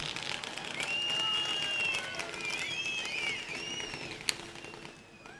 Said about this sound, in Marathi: या जाहीर सभेमध्ये शंभूराजेंनी आपल्या स्वागताला फटाके लावले आहेत